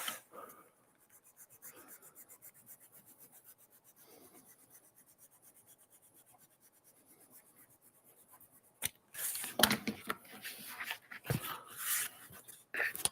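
Hand-smoothing the edge of a prop axe from Assassin's Creed: Valhalla, with faint, steady rubbing strokes at first, then louder, harsher bursts of sanding or rasping near the end, with no talk.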